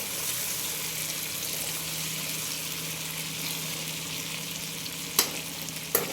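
Tomatoes, green chillies, peanuts and curry leaves frying in a little oil, giving a constant soft hiss and sizzle at moderate level, with two sharp clacks near the end.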